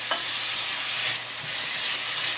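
Carrots, celery and onions sizzle in a frying pan for a tofu veggie pie, a steady bright hiss heard up close with faint low bumps and no voices.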